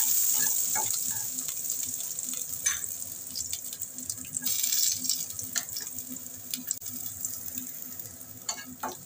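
Ginger and garlic sizzle steadily in hot oil for pomfret curry, a loud, continuous crackle with occasional sharper pops and faint stirring sounds, close by.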